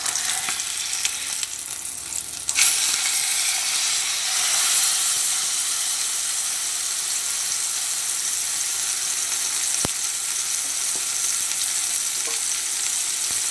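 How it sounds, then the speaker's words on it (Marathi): Kingfish tikka fries in hot oil in a pan, giving a loud, steady sizzle and hiss that fills the clip. A brief click cuts in near the end. No voice is heard. "तेल गरम जालें नुस्तें घालया. एक सायडीक जाले भाजून"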